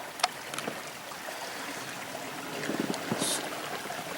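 A small creek runs through rural farmland in Knox County, Missouri, giving a soft, steady outdoor wash of trickling water with a few faint clicks and rustles nearby.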